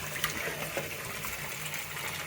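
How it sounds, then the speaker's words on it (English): Water swirls in a whirlpool and drains down a freshly unclogged sink pipe in a Tesla Ruby's plumbing, a steady nearby gurgling rush with small splashes and no speech. "right now it seems to be draining pretty good. Got a nice whirlpool there."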